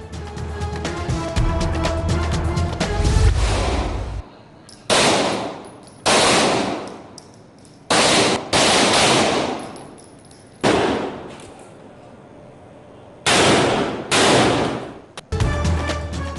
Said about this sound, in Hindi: पुलिस लाइंस कला गुजर सिंह में फायर प्रैक्टिस का सिलसिला जारी